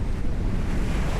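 Ocean surf on a beach at Kendwa, Zanzibar, a steady rushing wash of waves mixed with wind buffeting the microphone, continuous and fairly loud for a brief moment with no voices.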